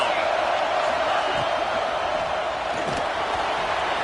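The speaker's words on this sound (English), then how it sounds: "Decibels rising as the crowd gets behind this defense on third down." A stadium crowd in a Madden American football video game roars steadily on a third down, a dense, even wash of cheering that stays loud throughout.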